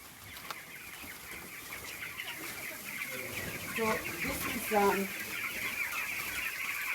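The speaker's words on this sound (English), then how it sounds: "Here we are going to our main chicken run." A flock of chickens in a 100-square-meter farm run holding about a thousand birds clucks in short, rhythmic bursts at mid distance, with steady farmyard background noise and a person briefly talking over it.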